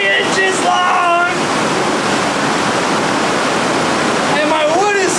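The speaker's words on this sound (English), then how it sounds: "it's like pouring rain now" Heavy rain pours on the outside of a Ram Promaster camper van, making a loud, dense, continuous roar like rushing water while a person talks briefly at the start and end.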